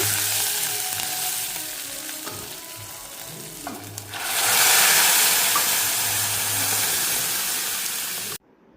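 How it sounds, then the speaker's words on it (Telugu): Cooked dal poured into a hot tempering (talimpu) in a pan, giving a loud close sizzle that surges and hisses with steam, with stirring scrapes, before cutting off abruptly. "పప్పు మొత్తాన్ని తాలింపులో వేసేసానండి"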